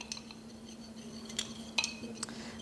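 A glass stirring rod clinks lightly against a glass container while slowly stirring a solution in water, sparse faint taps and chinks at irregular intervals.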